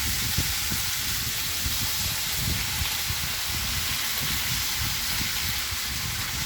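Shredded skirt steak and onions cook in a hot pan, giving a constant dense sizzling hiss that stays steady and close throughout, with no voices over it.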